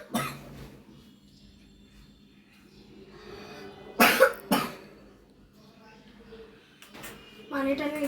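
A boy with a fever coughs twice in quick succession, sharp and close, near the middle of the moment, with quieter room sounds and some faint voice activity around it.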